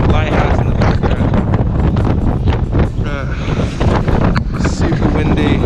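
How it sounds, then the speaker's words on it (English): Strong wind buffeting the microphone on a Lake District coast near a lighthouse, a loud continuous roar that never lets up, with faint surf beneath it. "Super windy."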